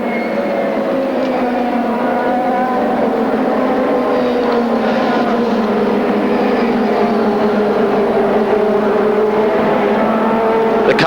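CART race cars circle the Nazareth oval during the 1997 race, a loud continuous engine roar with rising and falling pitches as cars pass, sustained throughout.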